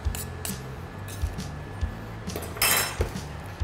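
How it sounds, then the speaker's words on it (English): A knife scrapes excess asphalt mix off a metal spoon on a hot plate in an asphalt mixing lab: a run of sharp metallic taps and clinks, a longer grating scrape near the end, close and fairly loud, with no talk. "you can take your knife here on your hot plate and use that to remove any excess materials"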